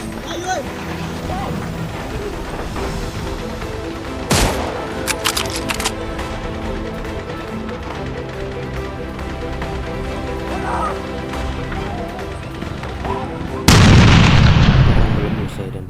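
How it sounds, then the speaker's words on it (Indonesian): Battle sound effect of a gunfire exchange with explosions, set in the fighting in Surabaya: a steady dense rumble of distant shooting with sharp cracks and booms, a loud blast near the end, and voices talking over it. "Dan baku tembak masih terjadi."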